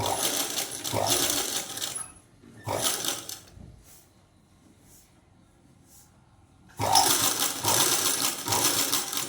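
A sewing machine with a straight presser foot stitches piping onto a garment neckline in close, loud whirring runs, broken by a quiet pause with faint clicks before the stitching resumes.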